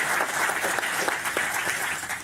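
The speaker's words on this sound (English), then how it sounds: "If we can just give a round of applause for Alice." Applause at a World Economic Forum panel on agriculture, a full, steady spread of many clapping hands from a conference audience, continuous throughout and fairly close.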